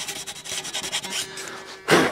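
Fine 400 grit sandpaper rubbing over a guitar body, a steady run of quick back-and-forth scrubbing strokes close by, ending in one louder, harsher rub.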